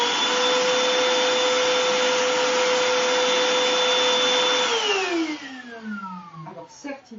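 A BLACK+DECKER 18V cordless handheld vacuum with a swivel head runs loudly and close with a steady high whine, then is switched off and its pitch slides down as it spins to a stop.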